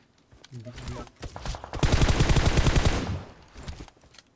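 Rapid automatic gunfire from PUBG Mobile in its Joker mode, a dense burst of closely spaced shots that swells loud in the middle and tapers off, with scattered earlier shots and a voice speaking over parts of it.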